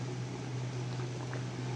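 Ginataan simmering in a pot gives a faint, steady bubbling hiss that runs without a break beneath a low electrical hum.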